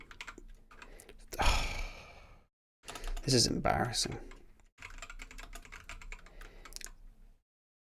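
Rapid typing on a computer keyboard in bursts with short pauses, close and clattery, while a person speaks briefly and sighs between the bursts.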